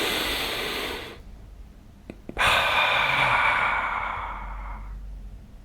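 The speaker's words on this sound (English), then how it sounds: "Deep breathing." Two long, deep breaths are heard close up: a slow airy inhale or exhale, a short pause with faint clicks, then another long breath that gradually fades.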